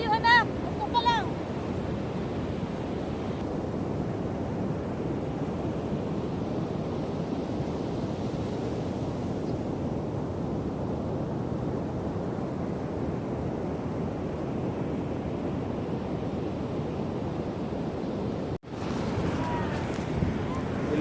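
Motorboat engine running out at sea, a steady broadband drone mixed with wind buffeting and rushing water that holds for the whole stretch, with a brief dip near the end and faint voices early on.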